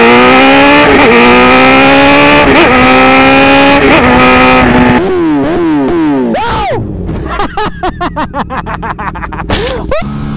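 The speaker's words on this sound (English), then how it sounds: "I love the sound of gas-powered motorcycles," A gas-powered motorcycle engine revs hard and loud, holding a steady high drone before rising and falling through quick throttle blips, followed by a rapid string of sharp, choppy bursts close by.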